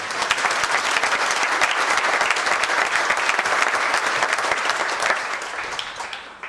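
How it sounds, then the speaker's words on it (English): A large audience at a West Virginia governor's conference on tourism claps together in a dense, sustained round of applause, loud and steady before tapering off at the very end. "Now you got to clap again."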